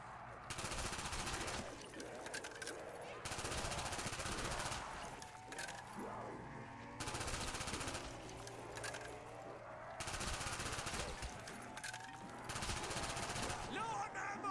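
Automatic gunfire in Black Ops Zombies on the Kino Der Toten map, long sustained bursts of rapid shots separated by short gaps, with someone talking quietly in between.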